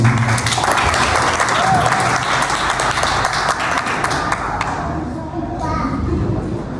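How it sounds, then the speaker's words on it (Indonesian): Loud, sustained clapping from an audience at a secondary school stand-up comedy competition final, thinning out toward the end, with a few voices and shouts mixed in. "Tepuk tangan sekali lagi."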